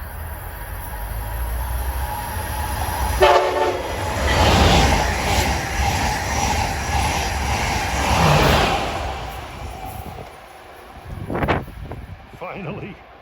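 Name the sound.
Amtrak Acela train passing and sounding its horn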